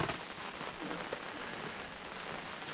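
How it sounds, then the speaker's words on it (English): Dense, steady rain pouring down hard on a surface at a December winter camp in Glen Affric, Scotland, a continuous hiss of drops with no voices, close and loud throughout. "Hear the rain. Yeah, it's hammering down."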